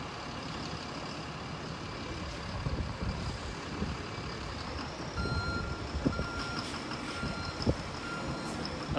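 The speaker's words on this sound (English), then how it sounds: "We have a double decker coming out." A double-decker bus reverses out of a bus station, its reversing alarm beeping steadily over a low diesel engine rumble and general station noise.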